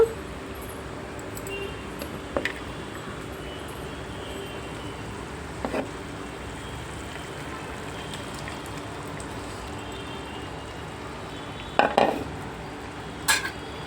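Raw netthallu (small fish) coated with chili powder, salt and turmeric sit in a pan under a steady low sizzling hiss, broken by a few sparse, brief utensil clinks.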